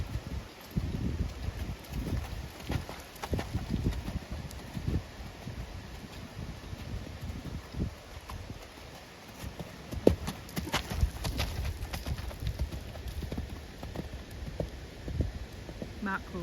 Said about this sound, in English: So this is just a nice canter warm-up.